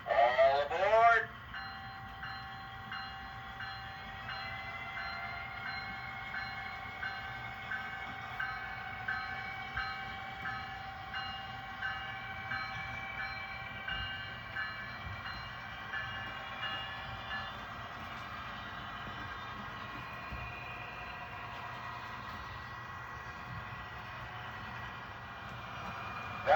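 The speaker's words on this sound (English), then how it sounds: "Now departing on track 3, northbound train number 190." A Via Rail LRC passenger train pulls away from a station platform with a steady, faint rolling rumble and a rhythmic clack of wheels over rail joints, under an opening burst of sound.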